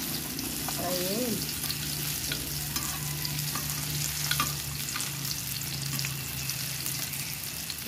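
Tortang talong, an eggplant omelette with malunggay, fries in a small pan, giving a steady close crackling sizzle throughout with a faint scrape near the start.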